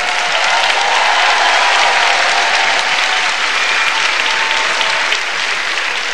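Dense, steady applause from a large concert audience for a band at the Opole festival, a continuous wash of clapping that holds loud for several seconds with no break.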